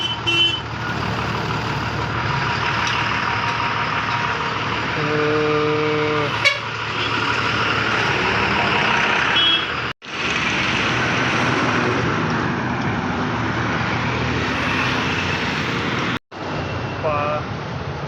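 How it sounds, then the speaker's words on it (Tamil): Dense road traffic on a hot day in Jammu, India, with loud truck engines rumbling throughout and repeated car and truck horn blasts, including a long honk near the middle and more toots near the end; a voice is heard speaking over the noise. "சரியான டிராஃபிக்காக இருக்குது."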